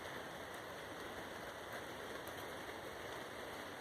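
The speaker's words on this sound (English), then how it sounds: "the rain hitting those trees sounded like this" Rain falling on tree leaves outside, a soft, steady hiss of many fine drops with faint scattered pattering, quiet and even throughout.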